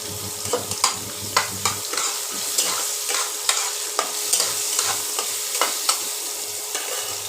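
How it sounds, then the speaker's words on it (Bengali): Dry red chillies tempering in hot oil in a kadai, a continuous crackling sizzle punctuated by regular sharp spatula scrapes and clinks against the pan, close and clear with no talking. "শুকনো লঙ্কা ফোড়ন দিয়ে দিলাম।"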